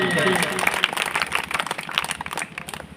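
A crowd claps at a political party meeting to welcome a speaker. The applause is a dense, crackling patter that rises and thins under a loud voice coming through a speaker system.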